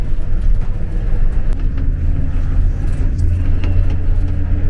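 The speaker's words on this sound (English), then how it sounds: "The gringo's got to stand here in the bus. In this flipping minibus." A packed minibus rumbles along a road in El Salvador, heard from inside as a steady loud engine drone with road noise and occasional rattles, no talk.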